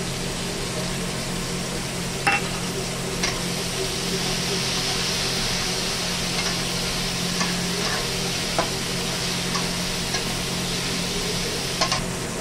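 Green mango fried with mustard paste sizzles in a pan with a steady, even hiss, while a utensil stirs and scrapes with a few faint clicks scattered through.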